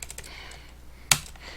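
A single sharp press of the Enter key on a computer keyboard, one crisp close click standing out against a quiet room.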